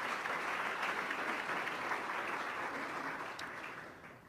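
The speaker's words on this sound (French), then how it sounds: "une bonne main d'applaudissements pour nos lauréats des bourses de la LHJMQ" Audience applause at an annual sports-study scholarship awards ceremony, a dense, steady wash of many hands clapping together that holds strong throughout and tapers slightly toward the end.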